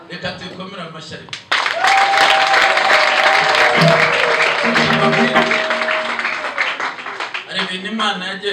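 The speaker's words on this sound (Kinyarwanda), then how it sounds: "Reka tuyikomere amashyi ariko" A church congregation breaks into loud, sustained applause during a sermon, starting abruptly and holding steady for several seconds, with a long sustained musical tone and voices mixed into the clapping.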